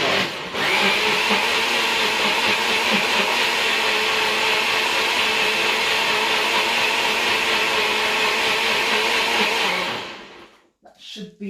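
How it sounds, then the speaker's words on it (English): A blender whirs loud and steady for about ten seconds, mixing green juice with lemon, then winds down and stops. A voice speaks briefly near the end. "I'm just gonna blend it again for just a couple seconds to incorporate the lemon in the mixture."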